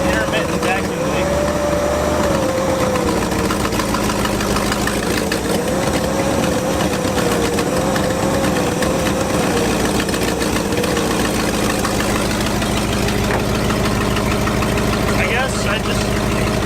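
Engine of a truck abandoned for 14 years idles roughly with an intermittent vacuum leak, a continuous uneven rumble with a faint whistling tone riding on top, heard close up as someone talks over it.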